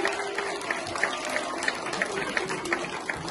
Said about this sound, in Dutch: Ook een geweldig applaus voor Jody en de Oranje.